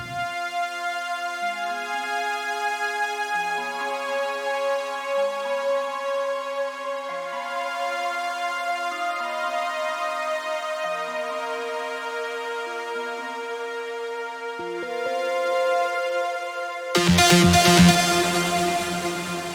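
Trance melody from a self-made TAL-NoiseMaker synth patch in Ableton Live, a steady run of bright sustained notes stepping through a phrase, alone, before a denser, louder burst of layered sound near the end.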